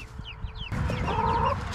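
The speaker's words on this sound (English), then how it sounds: "Chickens are smart." Hens clucking nearby in a backyard flock, a few short high chirping clucks and then a louder, busier stretch of fowl calls over rustling ground noise.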